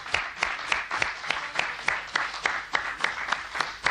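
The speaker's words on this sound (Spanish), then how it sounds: "Un aplauso, por favor." Television studio audience in Argentina applauding, a rhythmic unison clapping with evenly spaced beats over a softer wash of claps, at a moderate distance.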